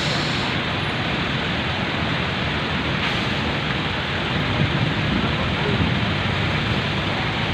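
Heavy rain pours down during a flooding storm, a dense, loud, unbroken hiss that stays level throughout.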